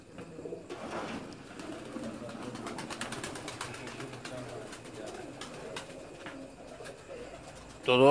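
Pigeons on a rooftop loft coo steadily at close range, with soft cooing and rustling throughout and a brief louder burst at the end.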